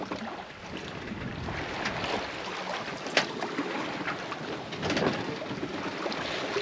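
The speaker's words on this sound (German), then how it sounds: "Das ist wieder ein herrlicher Segeltag. Wir machen noch ein bisschen Fahrt, 4 Knoten manchmal, kaum Welle." Sailing yacht under way on the Pacific in light wind and barely any swell, making about four knots: a steady wash of water and wind noise runs throughout, with a few brief knocks.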